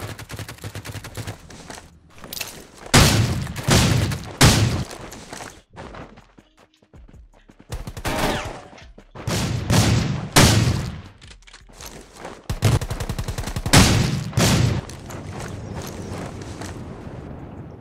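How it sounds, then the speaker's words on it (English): Shotgun blasts in a Rules of Survival battle-royale match come in sharp, loud bursts, often in quick pairs and clusters with short gaps, mixed with mechanical clicks and handling noises. "Shotgun yun."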